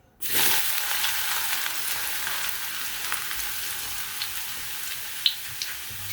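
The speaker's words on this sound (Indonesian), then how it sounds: "aku mau panasin minyak dulu ya teman-teman untuk menggoreng tempe yang udah aku potong dadu tadi." Diced tempeh frying in hot oil gives a steady, dense sizzle that bursts in at once and holds evenly throughout, with a few faint pops and no voices.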